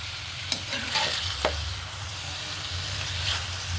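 Native chicken meat frying in oil in a pan with tomatoes for sinampalukan, giving a steady close sizzle with a few sharp stirring clinks and scrapes, no voices.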